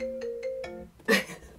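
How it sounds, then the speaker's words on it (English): A mobile phone ringtone plays a short electronic melodic tone pattern, fairly clear and close, followed by a brief louder burst of noise as the ringing is cut off. "oh, I can't silence my phone."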